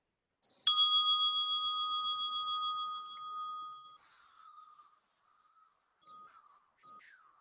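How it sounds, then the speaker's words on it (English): A meditation bell struck once close to a headset microphone, a bright ringing tone that sustains and slowly decays over several seconds, followed by faint scattered small clinks and chirpy sounds in near silence. "I will hold my bell close to my headset so that hopefully you can hear it."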